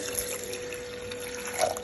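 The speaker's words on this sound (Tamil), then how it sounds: "ஆட் பண்ணிவிட்டு வேகத்துக்கு தேவையான அளவுக்கு தண்ணி சேர்த்துக்கோங்க" Water poured steadily into a cooking pot while making a drumstick lentil curry, a continuous close trickle with no talk.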